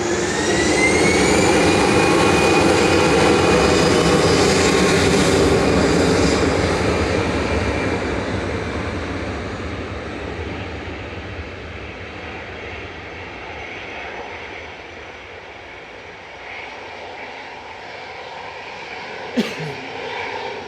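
A jet airliner in retro livery with a small green dot on its nose departs Manchester Airport, its loud engine roar with a rising whine near the start, then slowly fading into a distant rumble; a brief click near the end.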